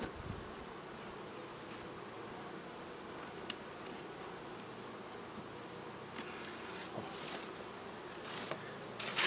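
A dense, steady buzz of many honeybees on a hive frame of brood fills the air up close, with occasional soft rustles and ticks.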